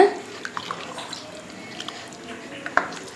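Rice with coconut milk, water and salt being mixed in a cooking pot for brinji rice: quiet wet sloshing with a few light spoon taps against the pot.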